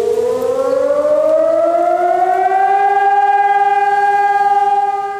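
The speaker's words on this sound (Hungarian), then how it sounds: "Reggel megszólaltak a szirénák Nyíregyházán, gyakorlatot tartott a polgári védelem." A civil defence siren sounding in Nyíregyháza during a civil protection exercise: one loud, close, sustained wail that slowly rises in pitch and holds steady, heard alone.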